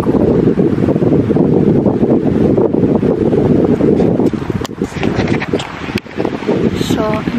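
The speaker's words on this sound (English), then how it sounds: "It's kind of windy here." Steady broadband wind roar buffeting the microphone outdoors at Pluscarden Abbey, Moray, Scotland, loud and continuous, easing slightly toward the end with a few faint knocks.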